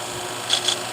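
Two quick metallic rasping strokes, close and fairly quiet, as a salon shear blade is drawn across a sharpening surface against faint background hiss.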